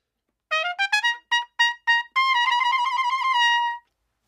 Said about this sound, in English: this sort of little trumpet called a piccolo trumpet. And this one sounds nice and high